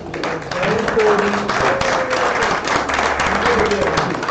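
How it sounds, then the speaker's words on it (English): Applause rises from a crowd at a tournament event, a continuous broad patter of many hands with some voices mixed in underneath. "So, quick round of applause."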